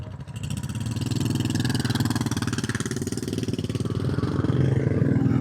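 A Royal Enfield motorcycle engine thumps nearby at a steady, even idle, its rhythmic single-cylinder beat loud and continuous with mechanical clatter and a slight rise toward the end.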